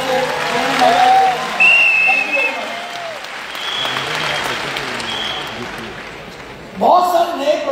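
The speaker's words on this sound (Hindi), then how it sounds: "एक बार दोस्तों सभी ने जो तालियां हो जाए दोबारा से।" An audience at a company meeting applauds in a steady wash of clapping, with voices and cheers rising over it before the crowd quiets and speech resumes.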